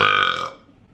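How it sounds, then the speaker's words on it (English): A single loud girl's burp, close and dry, lasting about half a second before trailing off into quiet room tone, with no talk over it. "I gotta burp."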